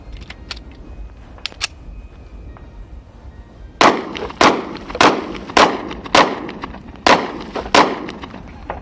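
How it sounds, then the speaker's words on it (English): Rock Island Armory 1911 handgun fired rapidly at milk jugs outdoors: about nine sharp, evenly spaced shots in a quick string after a few quieter distant pops, loud and close with no talking. "I'm gonna try and shoot 5 milk jugs right there, just because of the low recoil and everything."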